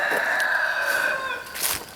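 A rooster crows loudly and close by, a long drawn-out call with a short burst of clucking near the end.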